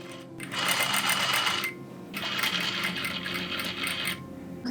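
Sewing machine stitching along a dress slit, two sustained runs of rapid mechanical needle chatter separated by a brief pause, close and loud with no talking.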